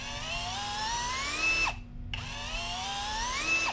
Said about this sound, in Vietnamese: tôn sen máy chạy cực kỳ ngon